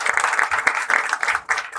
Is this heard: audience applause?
yes